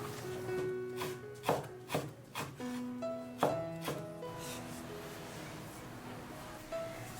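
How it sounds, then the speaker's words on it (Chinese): Knife chopping soaked, squeezed-dry preserved mustard greens on a board: a handful of irregular, close, thudding cuts over a steady background with music. "洗好了挤干水分，把它切碎。"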